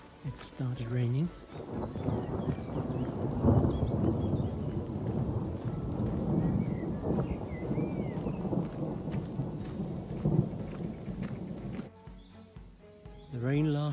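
Rain setting in during a long early-morning walk on a pilgrimage route from Champagne and Burgundy toward Le Puy-en-Velay, a steady wash of falling drops persisting for most of the stretch, with a voice speaking at the start and end.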